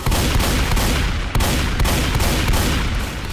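Dense, continuous gunfire from Left 4 Dead 2 on a ghost house map, loud and sustained with rapid overlapping shots and a brief break partway through, no talking over it.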